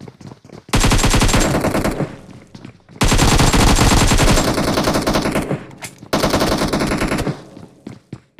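Loud bursts of automatic gunfire from a battle royale video game match, three long sustained volleys with brief gaps and a few scattered shots between them.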